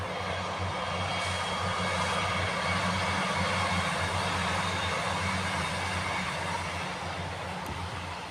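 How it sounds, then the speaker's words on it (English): A train passes near a golf course in the evening, a steady low rumble with a broad wash of noise that holds evenly throughout, fairly distant and with no one talking. "The train."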